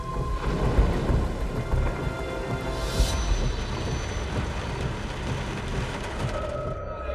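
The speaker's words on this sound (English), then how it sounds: "storms gathered on the horizon once more" A thunderstorm pours heavy rain steadily over a city while deep thunder rumbles and cracks, with one brighter crash partway through, the downpour continuing throughout.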